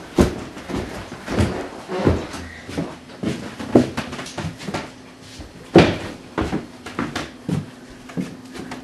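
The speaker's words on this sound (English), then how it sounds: "Unassuming door." A studio door is opened amid a busy run of knocks, thumps and latch clicks, with repeated close wooden bangs in an irregular rhythm and faint murmuring voices in the background.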